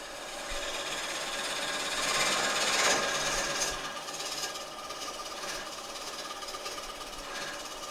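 A wood lathe spins a bowl blank while a tool cuts a dovetail into it, giving a continuous rough, chattering cutting noise that swells in the middle and then settles into a steady scraping hum.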